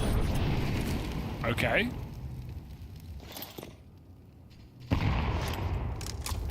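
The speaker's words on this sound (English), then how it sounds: "The double nade." Two grenades go off in a Counter-Strike match, heavy booming blasts a few seconds apart under steady game noise, with a voice briefly speaking.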